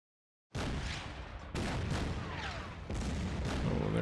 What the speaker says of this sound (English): there's some enemy artillery really focusing in on that Panzer Mark IV